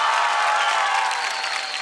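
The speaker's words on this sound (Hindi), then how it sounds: "ज़ोर तालियां हो जाए उर्वशी के लिए।" Studio audience at a televised dance competition applauds a performer, a loud, continuous burst of clapping with some crowd noise, holding steady and easing slightly toward the end.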